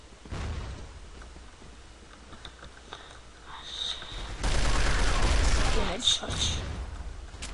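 Gunfire in the online shooter CrossFire, with a loud sustained burst of shots in the middle followed by a couple of sharper bursts, over quieter clicking and game sounds, while a player talks.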